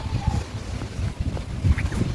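Strong gusty wind from a storm in a Dutch village buffets the microphone in low, rumbling bursts, rising and falling unevenly.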